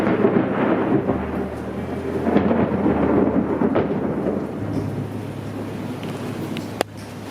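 Heavy rain falls during a thunderstorm over a flooding street, with a dense continuous roar, rumbling low thunder and wind buffeting the microphone.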